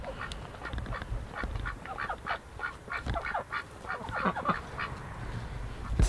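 Several ducks quacking nearby inside a greenhouse, a busy overlapping chorus of short nasal calls over a low background rumble.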